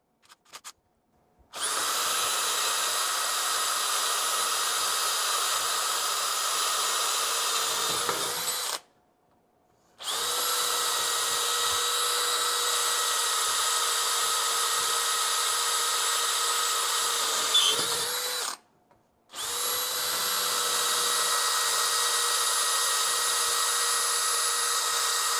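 A power drill fitted with a Diablo Metal Demon bit bores three holes into steel, each a long, steady, high-pitched whine of about seven to nine seconds, separated by brief silent pauses, close and loud with no talking.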